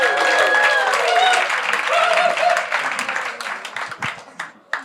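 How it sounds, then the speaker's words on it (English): Comedy club crowd applauding and cheering a comedian in Denver, a dense wash of clapping with some whoops that fills the room and then thins out toward the end. "Clap those hands for the very funny Alex Bozanovic."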